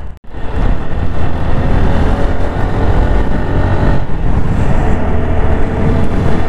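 A TVS Apache RTR 160 4V ABS motorcycle rides at around 70 km/h, giving a loud continuous engine drone mixed with heavy wind rush, steady throughout.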